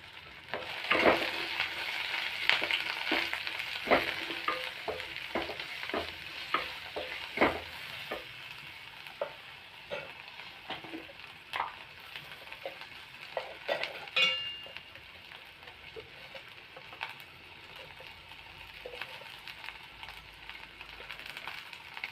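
Ivy gourd sautéing with turmeric and salt in a pan, a steady close sizzle broken by repeated sharp scrapes and clacks of a spoon stirring through the vegetables.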